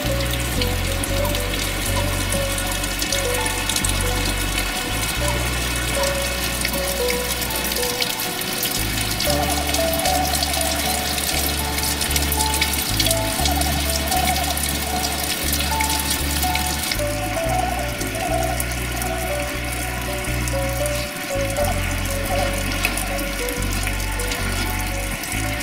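A waterfall flows under winter ice in the Starohorské vrchy mountains, a steady, dense rush and splash that stays loud and continuous throughout, alone with no voices.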